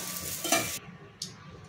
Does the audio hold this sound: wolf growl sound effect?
no